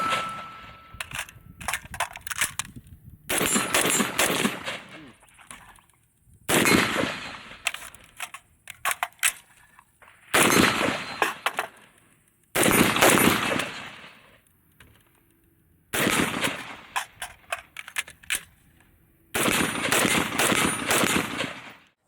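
Repeated bursts of rapid fire from a Daewoo rifle, loud and close, each volley lasting a second or two with quiet gaps between, no talking.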